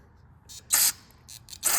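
Short bursts of aerosol cleaner hiss as it is sprayed into the carburetor of a Craftsman 179cc snowblower, several quick squirts in a row with brief pauses, close up and fairly loud.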